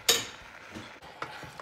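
Utensil stirring strawberries, lemon and sugar in a pan, a few distinct scraping clinks spaced through a short, fairly quiet stretch with no talking.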